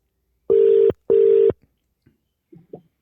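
Two loud, steady telephone keypad tones sound in quick succession, close and clear, followed by faint scattered small clicks and quiet.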